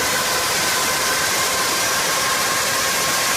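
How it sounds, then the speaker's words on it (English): Aircraft engine ground running during maintenance at Perth Airport gives a steady, loud, broadband roar with a faint whine, unbroken throughout and with no talking. "engineers will perform engine testing known as ground running"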